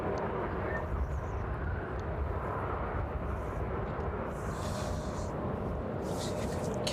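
An airplane departs from East Midlands Airport in the evening, its jet engine a continuous broad roar heard from a distance, steady and unbroken, with faint background hiss.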